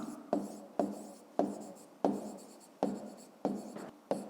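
Pen strokes on notebook paper during a fifth-grade maths exercise, a series of sharp scratchy onsets about every half second, each trailing off into a soft scrape, close and fairly quiet with no talking.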